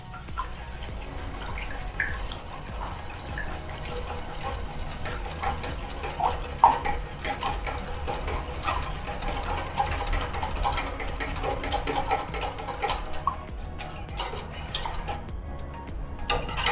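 Klappertart batter being beaten and mixed in a bowl, a continuous rapid whisking and scraping texture with faint clinks, close and steady throughout, no speech.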